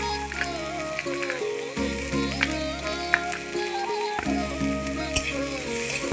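Chopped chillies fry in hot oil in a wok, a quiet continuous sizzle with occasional light pops and stirring scrapes, under a steady background hum and tones.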